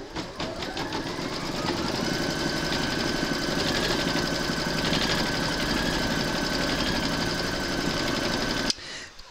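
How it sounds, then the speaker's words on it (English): A home embroidery machine stitches an applique outline round on a hooped haunted-house design, a steady mechanical whir with a rapid needle rhythm that runs for several seconds before stopping abruptly. "Pop your hoop into your machine and stitch round number 3 to secure it."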